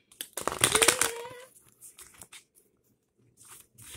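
Oracle cards being shuffled in one brisk, close, crackly burst lasting about a second, followed by a few faint scattered rustles and then near silence.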